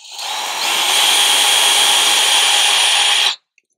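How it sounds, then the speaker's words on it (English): A close, loud power drill runs continuously for about three seconds, winding up at the start, then cuts off abruptly into silence. "we're literally going to drill a hole here"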